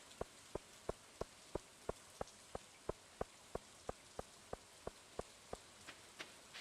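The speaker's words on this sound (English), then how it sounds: "Man, I love the rain." Rain in the farming video game Stardew Valley, heard as steady patter with a regular series of crisp, evenly spaced drip ticks about every third of a second, quiet and alone without talk.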